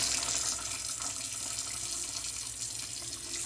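Hot water runs steadily from a kitchen spigot into a sink, a continuous close hiss and splash that holds level throughout, with no talking.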